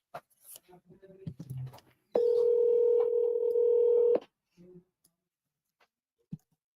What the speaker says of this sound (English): let's go call Mike.